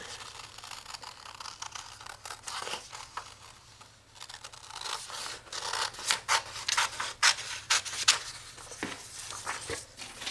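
Scissors or a craft blade rasp and rub through a cross stitch stand-up piece, cutting it out in an irregular run of close scraping strokes that build louder toward the end, with no talk.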